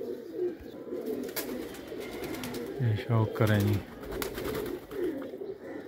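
Kamgar pigeons from a Pakistani pigeon keeper's flock coo in a low, throaty, repeated burst at close range, over steady background noise while someone talks.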